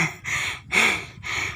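Heavy panting after an uphill walk on a zigzag trail in Montalban, Rizal: three loud, close breath bursts with short silent gaps between them.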